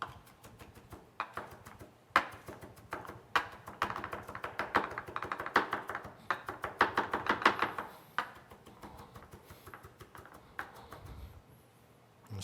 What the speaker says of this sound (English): This old school way of chopping garlic.